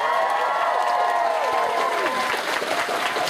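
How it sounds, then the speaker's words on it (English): Convention audience at a Doctor Who panel in Cardiff cheering and applauding, a dense, steady wash of clapping with whoops and voices mixed in, close and loud throughout. "I think you should just do another big cheer for the panel"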